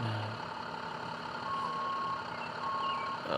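A vehicle backing up emits a repeating reversing beep over a steady idling engine and road noise, heard at moderate distance on a street.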